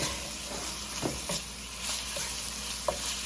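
Chopped onion and browning meat fry in a pan with a continuous hissing sizzle and occasional light stirring taps, steady and close.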